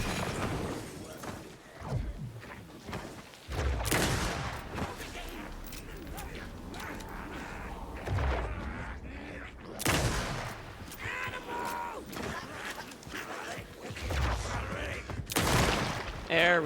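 Booming shots from a big gun in Alan Wake 2, a few heavy isolated blasts several seconds apart over a low, murky game ambience, with a voice talking in between.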